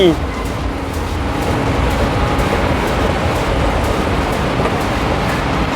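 Steady, roaring rumble of an underground MRT train in motion, a dense continuous drone with faint rhythmic clacks throughout.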